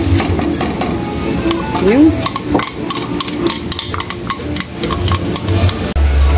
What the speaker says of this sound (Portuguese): agora eu vou botar o alho, tá bom? Ó, ó, barulhinho.